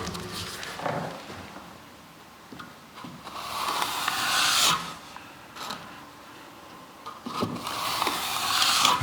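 A spray bottle mists water onto fresh plaster in a Victorian house, a few soft hissing spritzes in separate bursts with quiet pauses and light rustling between them, close by.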